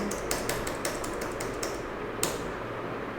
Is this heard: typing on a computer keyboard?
yes